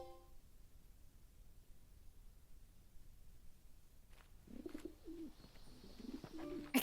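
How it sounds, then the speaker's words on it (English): Pigeons coo softly in the Final Fantasy XVI video game, a few faint low murmurs emerging late in the stretch over a quiet, hushed background. "I can hear pigeons."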